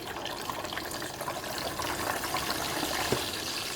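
Pork belly lowered skin side down into hot frying oil outdoors, setting off a steady, close, crackling sizzle that holds an even, bubbling hiss throughout with small pops.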